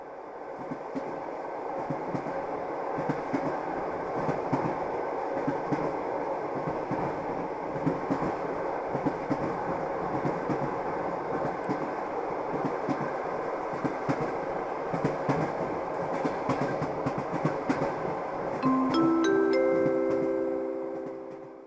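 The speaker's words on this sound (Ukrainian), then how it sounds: "Швидкісний потяг Різдвяний експрес відправляється зі станції Едем." Sound effect of a high-speed Christmas express train departing a station in a children's Christmas play: a steady, loud rolling rumble of rail cars runs throughout, with a brighter tonal screech or whistle rising near the end.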